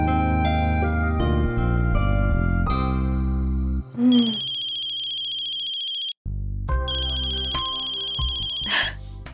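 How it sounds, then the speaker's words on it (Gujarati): A phone rings with a melodic, tone-based ringtone while a call is being placed. The pattern plays loud and close, repeating in bursts with brief breaks. "લગાડીએ શ્રુતિને ફોન."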